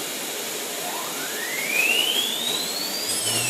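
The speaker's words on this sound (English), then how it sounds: "And now start the spindle" A CNC machine spindle on a Syntec controller spins up toward 15,000 rpm at 50% speed, giving a steady whine that climbs smoothly in pitch over a constant hiss of machine noise.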